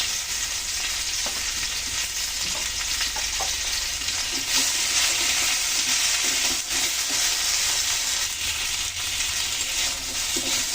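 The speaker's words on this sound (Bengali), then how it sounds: "আদা জিরা দিয়ে কিন্তু ভালো করে কষানো হয়ে গেছে" Ginger and cumin paste fries in a pan for a curry, a loud, continuous sizzle with the scrape of stirring mixed in throughout, no voices.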